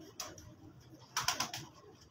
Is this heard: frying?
no